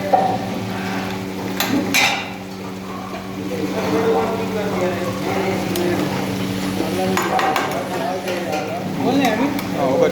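Spoon stirring potatoes with salt in oil in a pan for vegetable rice, giving steady scraping and clinking against the pan throughout, with someone talking over it.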